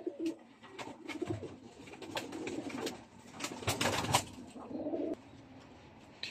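Breeder pigeons coo softly in repeated low, throaty phrases, with brief rustling and chirps mixed in, fairly close and quiet.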